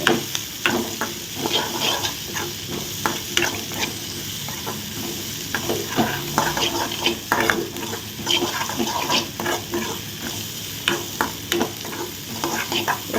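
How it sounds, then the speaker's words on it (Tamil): Onions and green chilies sauté in a hot pan, a steady close sizzle broken by frequent scraping and clinking strokes of a spoon stirring, with no voices. "வெங்காயம் வதங்கட்டும் இது வரைக்கும் நம்ம வெங்காயம் பச்சை மிளகாயெல்லாம் வேகட்டும்"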